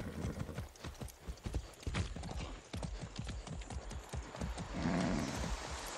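Horse hooves clip-clop at a steady trot in the video game Far Cry 6, close and fairly loud, with a brief whinny and faint movement noise around them.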